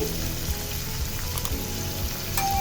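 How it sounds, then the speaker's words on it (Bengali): Ingredients including raw tomatoes frying in oil for a cauliflower and chicken curry, a dense, steady crackling sizzle throughout with a few faint knocks, close and unbroken by talk. "এগুলো একটু তেলের সাথে ভেজে নিচ্ছি"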